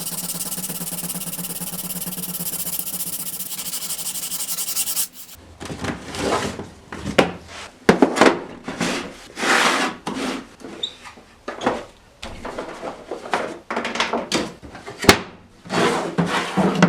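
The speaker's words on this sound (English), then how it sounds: "I thought I'd come in first and just hand sand that down." A willow cricket bat being hand sanded with sandpaper after a glued repair: a quiet steady rub for the first few seconds, then a run of close, loud, rhythmic rasping strokes, each a separate scrape with short pauses between.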